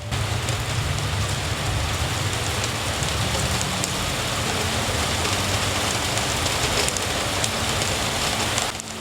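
Heavy rain pours down during a storm in a cartoon scene, a dense, loud, unbroken hiss of falling water that holds steady throughout with no voices.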